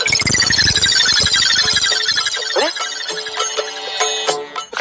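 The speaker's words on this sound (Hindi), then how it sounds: "सोनू ने रिंगटोन में भजन रखा है।" A mobile phone ringtone playing a devotional bhajan, a loud melodic tune with bright tonal lines ringing out continuously and close, fading somewhat toward the end.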